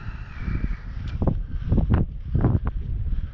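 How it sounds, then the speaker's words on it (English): Steady wind rushes and buffets across an outdoor flying field, a continuous low roar with gusty swells, as small UMX Timber radio-controlled planes fly nearby; brief rustling bursts rise over the blowing noise. "wind's coming"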